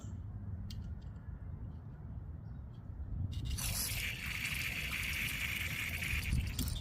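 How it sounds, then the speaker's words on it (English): Carburetor cleaner drips from a jet on a Yard Machines Powermore 123cc snowblower carburetor: a steady liquid trickle and spray hiss starts partway through, continuing over a low background rumble; close and fairly loud. "It's dripping out."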